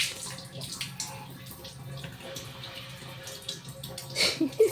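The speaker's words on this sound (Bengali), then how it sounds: "আমি করিয়ে দিচ্ছি স্নান" Bathwater splashing and trickling as a small child is bathed, soft sloshes building to a few louder splashes near the end, with no talk over it.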